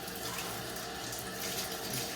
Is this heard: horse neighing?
no